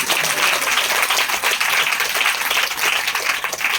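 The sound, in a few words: congregation applause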